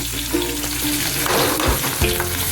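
Onions fry in hot oil already seasoned with mustard seeds and cumin, sizzling steadily and close, with a few brief scraping stirs through the crackle and no talk.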